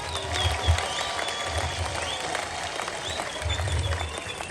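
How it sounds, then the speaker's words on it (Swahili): A crowd at a customary chief's installation ceremony erupts in steady applause and cheering with bursts of shrill ululation, sustained and dense across the moment. "Mjipigia vigelegele kama ni kweli."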